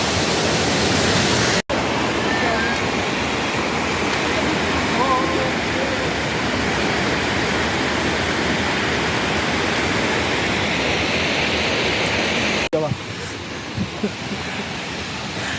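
A mountain waterfall on the Kheerganga trek in Himachal roars as a dense, constant rush of water at close range, broken by a short cut and quieter sounds near the end.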